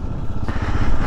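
A 2022 Kawasaki KLR motorcycle engine-braking, its single-cylinder engine droning loud and close with a steady rough pulsing note that rises slightly partway through the brief moment.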